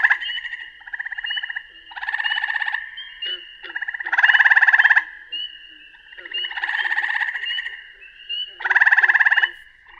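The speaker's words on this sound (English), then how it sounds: "But that is the gray tree frog." A gray tree frog calls repeatedly in loud, buzzy trills, each lasting about a second, spaced in a steady rhythm with brief pauses, close and alone with no other sounds.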